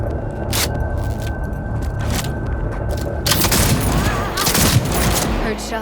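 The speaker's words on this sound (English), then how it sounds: "Heard shots." Gunfire in the Cyberpunk 2077 video game, a dense volley of booming shots under a steady game soundscape, loud and close, with a brief high tone early on.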